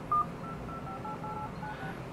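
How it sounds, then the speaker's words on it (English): A Huawei Honor Play 4 smartphone sounds one short keypad dialing tone while placing a call, faint and brief over quiet background hiss. "So there is a little dial tone there,"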